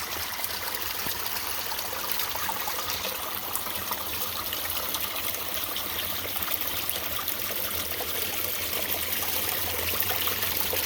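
Artesian spring water spouts steadily into a shallow pool at a ranch garden, a continuous close splashing and trickling rush with no breaks.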